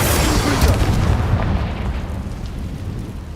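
A Bombardo spell blast in Hogwarts Legacy, a loud booming explosion at the start that rumbles and slowly fades over a few seconds, with no talk.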